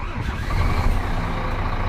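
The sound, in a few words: Scania P410 truck engine running at idle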